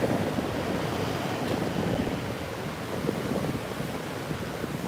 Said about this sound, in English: Look at the beautiful ocean.